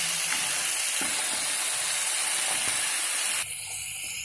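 Carrots and cauliflower frying in hot oil, a dense continuous hiss with faint crackles that drops slightly in level near the end, with no voices.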